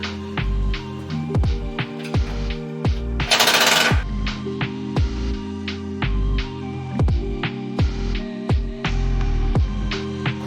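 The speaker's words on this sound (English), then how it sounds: "We're going to use the drill for the rest, just to make it a little bit faster." A cordless drill whirs in a string of short bursts while removing bolts on a Jeep Gladiator, each spin winding down in pitch, with a brief harsh rattling burst partway through.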